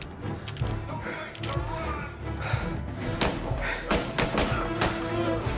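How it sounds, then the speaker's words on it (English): Gun reloading in Mafia: Definitive Edition, a series of close mechanical clicks, taps and thumps over a busy game soundscape, with several sharp transients in the last seconds. "Gotta reload."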